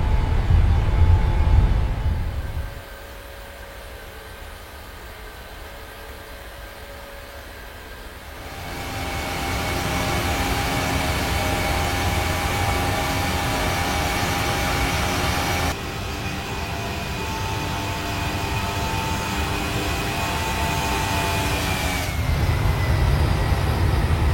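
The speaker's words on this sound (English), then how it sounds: "now they are increasing the engine thrust as they gain speed on the runway" Airliner engines spool up during the takeoff roll, a low rumble giving way to a louder, steady roar with rising tonal whine that builds in stages and holds strong, no voices over it.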